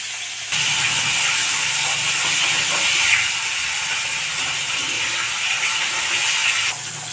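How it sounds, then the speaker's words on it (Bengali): Parshe fish lightly frying in oil, a loud, steady hissing sizzle that starts abruptly and holds evenly throughout, close and alone. "মাছগুলোকে আমি হালকা করে ভেজে নেব।"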